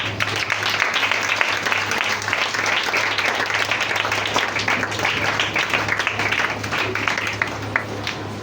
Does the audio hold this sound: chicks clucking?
no